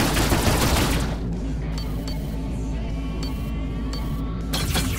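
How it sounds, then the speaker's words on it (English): A tachyon gun firing aboard a Sequoia light cargo ship fighting pirates in the Rebel Galaxy video game, a loud opening burst followed by a steady engine rumble with sharp periodic shots and another burst at the end. "Tachyon gun."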